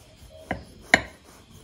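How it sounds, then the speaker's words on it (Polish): A knife cuts through a freshly baked whole-orange Christmas babka, two soft, close taps of the blade against the board, quiet and isolated. "Przekroimy kawałek."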